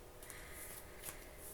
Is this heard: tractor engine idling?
no